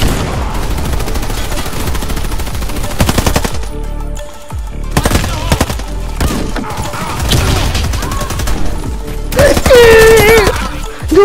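Loud, rapid automatic gunfire in the Warface shooter video game, with bursts of machine-gun fire and crashing impacts filling the whole stretch, plus a brief electronic whine near the end.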